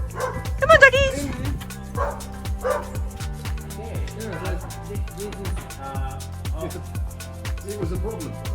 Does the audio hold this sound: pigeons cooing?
no